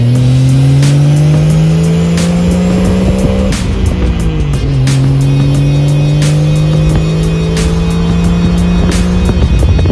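A repaired car pulls away with its engine loud and close, revving up in a steady rising drone, easing off briefly, then climbing again through another gear.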